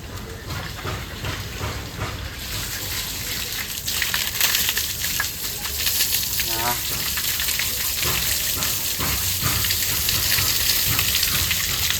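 Running water from a supply that has just come on in the morning, a steady gushing hiss that grows louder after a few seconds and keeps flowing without a break.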